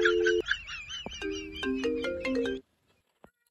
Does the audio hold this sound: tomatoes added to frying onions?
no